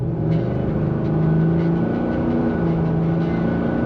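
Steady, fairly loud engine drone from a 2024 Ford F-350 XLT dually single-cab pickup with a 7.3L V8, heard from inside the cab under light throttle, with a low rumble and mild harmonic hum throughout and no talking.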